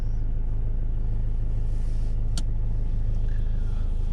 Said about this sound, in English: I'll pull away again, just find the bite point, hold it there